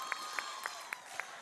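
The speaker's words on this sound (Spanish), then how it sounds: "Siente el aplauso y el cariño del público." A live studio audience at a televised concert applauds a singer after his performance, a steady wash of clapping broken by a few sharper accents across the short moment.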